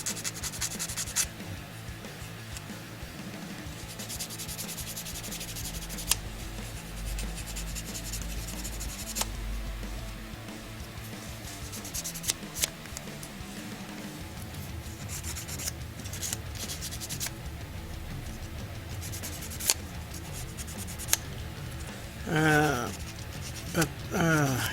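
Parts of a Zvezda WW2 Soviet Army 1.5-ton truck plastic scale model kit sanded by hand, giving steady scratchy rubbing strokes that continue almost the whole time, with a voice occasionally heard faintly beneath.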